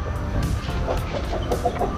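A chicken clucking nearby during cooking, a few short, throaty clucks in quick succession over a low background hum.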